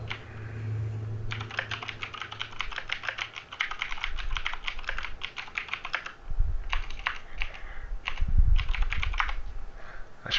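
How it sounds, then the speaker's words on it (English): Rapid clacking keystrokes on a mechanical keyboard, fairly close, continuing in bursts with short pauses and a faint low hum beneath. "I should probably mute before I type, considering I've got the mechanical keyboard."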